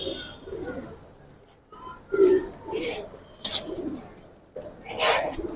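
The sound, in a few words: silver Bengi pigeons cooing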